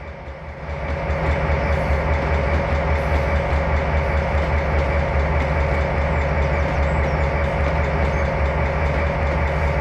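A CSX EMD GP38-2 diesel locomotive in the Trainz Simulator game, with a steady heavy engine drone and rumbling wheels on rail that rise within the first second and then stay constant and loud throughout, with no talking.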